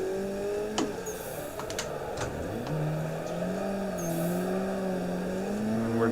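A car engine in a sim drift racing game revs and winds up and down in smooth, continuous sweeps, with a few sharp clicks over the top; steady and moderately loud.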